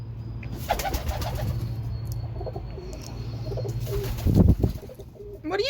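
Pigeons coo softly in a loft, low rumbling calls repeating close by, with a few rustles and wing flutters and no talking.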